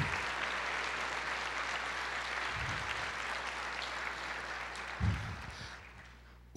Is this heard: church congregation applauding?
yes